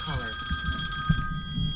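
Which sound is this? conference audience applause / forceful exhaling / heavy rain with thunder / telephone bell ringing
telephone bell ringing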